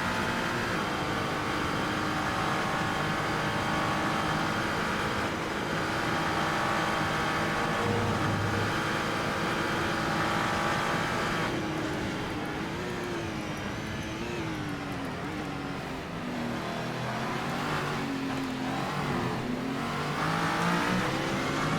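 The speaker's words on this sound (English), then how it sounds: "Engine full power." A GT3 race car engine at full power in the Assetto Corsa racing game, circuit at Spa, droning loudly and steadily throughout, its pitch rising and falling with gear changes and acceleration.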